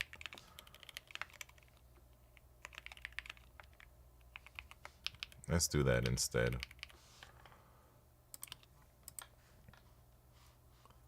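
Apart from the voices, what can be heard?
typing on a computer keyboard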